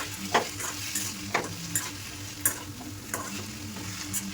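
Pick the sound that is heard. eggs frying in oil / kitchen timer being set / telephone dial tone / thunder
eggs frying in oil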